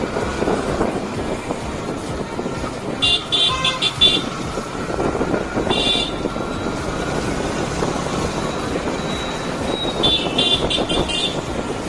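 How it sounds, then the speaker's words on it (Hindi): Heavy city traffic on the streets of Raipur, a steady loud roar of engines with several bursts of horn honking in between, no talking. "भाई, कितनी भयंकर ट्रैफिक हो रही है यहाँ पास।"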